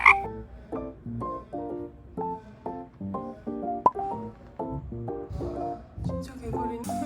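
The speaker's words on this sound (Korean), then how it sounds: "근데 그게 무슨 소린가 했는데 진짜 개구리가 있었네" A frog croaks repeatedly near a children's play area at a kids' venue in Gyeongju, giving a rhythmic series of throaty, harmonic croaks at steady intervals, close and clear, with faint voices in the background.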